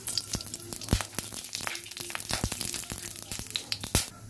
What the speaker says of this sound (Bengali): কড়াই গরম হয়েছে, কড়াইতে তেল দিয়ে দিচ্ছি।